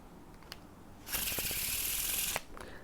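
A deck of playing cards faro shuffled by hand, a single close riffle lasting about a second with a dense rapid flutter, set between faint handling clicks.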